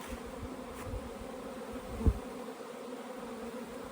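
Honey bees buzzing around opened hive colonies set out the day before, a dense steady drone with individual bees passing close, one brief louder knock near the middle.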